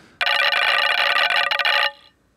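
Collider modular synth module producing particle collision sounds: a dense, bright, buzzing burst of rapid ringing tones that lasts about two seconds, then cuts off abruptly with no voices.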